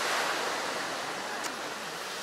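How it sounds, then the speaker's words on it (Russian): Sea waves roll in at Cleopatra Beach in Alanya, Turkey, as a broad, steady wash of surf that fills the whole clip, with no voices. "Сегодня море немножко волнуется. Такие волночки."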